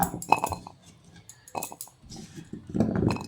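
Pieces of cut raw pumpkin are set onto a plate, giving soft scattered clinks and knocks against the dish with a few brief scrapes, close and quiet in a plain kitchen, with no talking.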